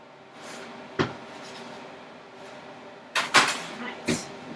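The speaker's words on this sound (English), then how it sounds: "So I'm going to take the bread out of the oven." A kitchen oven door is opened to take out baked bread: a solid clunk, then a louder double knock of the door and another thump a second later, all over steady room hum.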